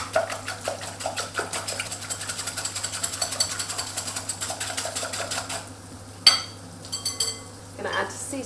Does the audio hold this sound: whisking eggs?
yes